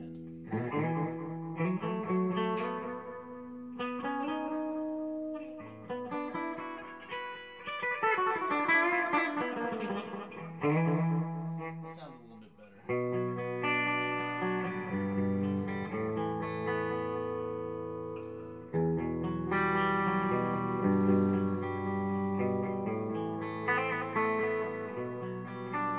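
Electric guitar through a TC Electronic Echobrain delay pedal, mix set low, plays chords and melodic lines with a repeating echo trailing each note, steady and fairly loud throughout.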